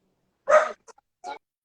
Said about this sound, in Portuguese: Agora deu um ataque nos cachorros.